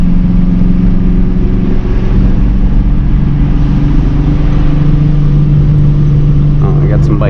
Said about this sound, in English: I'm gonna keep it in third gear around there.